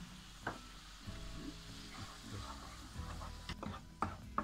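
Coarsely chopped onions sizzle steadily in hot olive oil, a constant crackling hiss broken by a few sharper pops and clinks of stirring.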